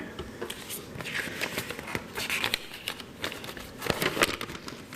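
Paper sheets rustle and crinkle close by as a woman handles them at a Vancouver talk on renting, with scattered crisp crackles and soft shuffles and no speech over them.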